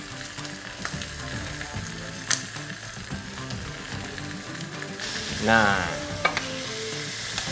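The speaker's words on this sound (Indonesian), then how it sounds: "Dan selagi dibakar, kita berikan olesan dari bumbu yang tadi sudah kita ungkep." Chicken grilling while basted with a spice marinade, a continuous close sizzle and crackle with clinking and scraping of utensils, someone speaking briefly over the cooking.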